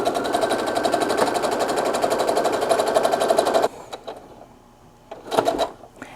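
Sewing machine stitching a self-binding minky fabric blanket, running in a fast, steady mechanical whir for several seconds before stopping, followed by a few quiet clicks and one short final burst of stitching.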